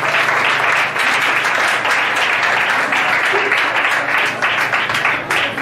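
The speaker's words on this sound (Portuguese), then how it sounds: "Senta aplaudindo o nome do Senhor" A church congregation at a Pentecostal vigil applauds steadily, a dense, loud, continuous wash of clapping that fills the hall for several seconds with faint voices mixed in.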